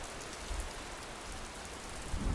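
Gentle, quiet rain falls as a steady, even hiss of drops with a few soft low rumbles mixed in, with no voices.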